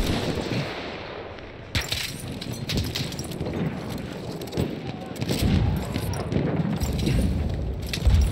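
Machine gun fire in the video game Battlefield 1: rapid, dense bursts of gunfire with heavy booms and impacts layered on top, continuing loudly through the whole stretch.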